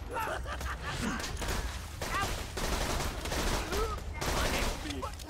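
Borderlands 2 combat fills the scene with a steady, heavy fusillade of overlapping gunshots, with chirping weapon effects and occasional booms throughout.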